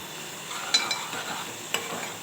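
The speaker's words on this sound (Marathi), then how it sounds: "पेस्ट मस्त भरपूर वेळ चांगलं तेल सुटेपर्यंत फ्राय करायची आपल्याला खरपूच करून घ्यायची" Masala paste of onion, garlic and tomato frying in oil in a pan, a soft steady sizzle with a few sharp clicks of a spoon stirring against the vessel.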